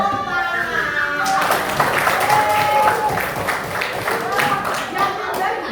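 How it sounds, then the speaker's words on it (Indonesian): A group clapping hands together in a class or gathering: sharp, uneven claps building into a lively burst, with voices and chatter mixed in throughout. "Oke, tepuk tangan."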